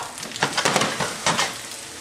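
Sliced shiitake mushrooms sizzling in a pan as they are stirred, a bright crackling fry with bursts of spattering and stirring strokes, close up with no talk.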